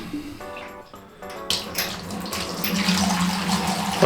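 Home-brewed dark wort pours from a brew kettle's opened valve into a plain fermentation bucket, a steady splashing gush that builds louder and brighter as the flow strengthens.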